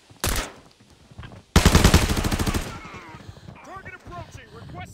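Gunfire in the Arena Breakout shooter game, a VSS rifle: a short burst, then a longer rapid automatic burst of close, loud shots, followed by quieter sounds and chirpy effects.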